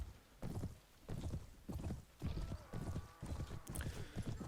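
Horse hooves pound in rhythmic bursts during a Mount & Blade: Warband battle, loud and close, with clatter and other battle noise around them.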